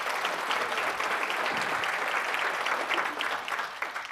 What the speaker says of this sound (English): So please, a round of applause for the people who made all this possible.